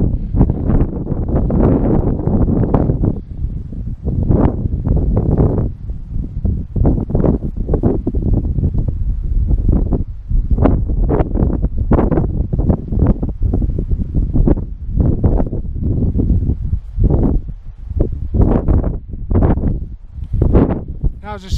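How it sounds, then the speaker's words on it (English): Heavy wind on Dodd Fell buffets the microphone in loud, continuous gusts, with a person talking underneath the roaring noise. "the wind's far too heavy again"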